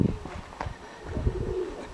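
Pigeons coo softly and repeatedly at close range in a short outdoor stretch on a windy day, the low throaty calls rising and falling with no talking over them.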